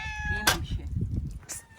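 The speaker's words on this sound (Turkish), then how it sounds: "Şurada bir tane sarı kedimiz var." A yellow cat gives a short meow, then a second fainter one, over low background rumble and murmuring voices nearby.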